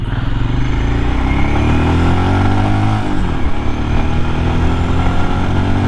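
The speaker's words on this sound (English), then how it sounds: "I think we got a little bit more acceleration." A 2023 Royal Enfield Scram 411 single-cylinder motorcycle accelerates, its engine note rising loud and close through the gears, with a brief dip around the midpoint before climbing again, heard without talk.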